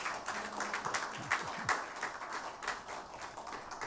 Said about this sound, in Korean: 우리 은혜로운 찬양해 주신 우리 성가대원들에게 다시 한번 감사의 박수 하겠습니다.